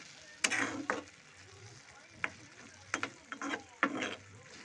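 A pumpkin dish stirred in a cooking pot on a gas stove: a few scattered scraping clanks of a spoon against the pot, close and fairly quiet, over a soft background hum.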